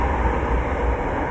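A train at the PTX terminal gives a steady, loud low rumble and hum, continuous throughout with no voices.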